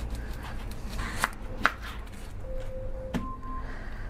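A big dice blade chops through food during freezer meal prep, a few sharp separate knocks spaced about a second or more apart over a low, quiet background.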